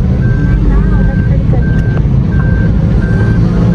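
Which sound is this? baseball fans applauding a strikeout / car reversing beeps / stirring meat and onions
car reversing beeps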